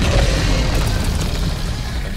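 A rail cannon fires in a video game, the explosion giving a loud, deep boom with heavy rumbling that fills the whole moment and slowly eases off.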